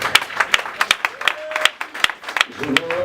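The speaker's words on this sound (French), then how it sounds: "acclame ton Dieu très fort" Scattered, uneven clapping and cheering from a church congregation at a gala dinner, sharp individual claps near and far with voices calling out, and a voice rising at the end.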